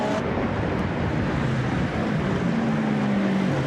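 A Nissan GT race car with a front-mounted V8 roars past at Monza during a Blancpain Endurance Series race, a loud, steady engine drone throughout with a rising pitch toward the end.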